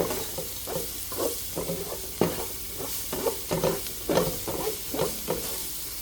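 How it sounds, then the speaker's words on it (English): Onion and garlic stir frying in a pan with a little salt, a steady sizzle broken by repeated rhythmic scraping strokes of a utensil stirring the ingredients, close and fairly loud with no talking. "Now the onion is done stir frying"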